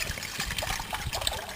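Water pours steadily into a BCB Crusader metal cup, filling toward the half-litre mark, a close continuous trickling and gurgling with no talk.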